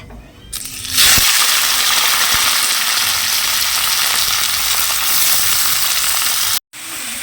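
Winter vegetables with cauliflower stems hit hot oil tempered with panch phoron in a wok, setting off a sudden loud sizzle that holds strong and steady for several seconds before a brief dropout.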